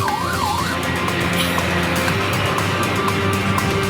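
Fire engine siren at a blaze in Sumedang and Majalengka, Indonesia. A wailing rise and fall sounds briefly at the start, then stays partly buried under a dense, steady roar of engines and traffic.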